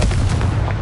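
Confringo fire spell blast in the Hogwarts Legacy video game, a loud, close, rumbling burst of booming fire with a heavy low roar lasting under a second, no talk.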